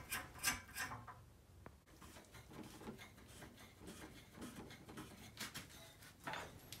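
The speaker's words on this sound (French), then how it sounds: "on va venir visser les tiges fuitées sur les petites rallonges" Faint rubbing and rasping as threaded rods are screwed by hand onto the small extensions of a wall-hung toilet frame, with scattered scrapes and light taps close by.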